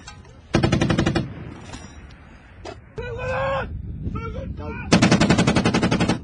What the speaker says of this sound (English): we start getting shot up here on the ridge line with the fire support group